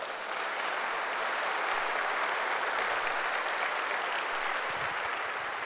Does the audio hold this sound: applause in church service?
yes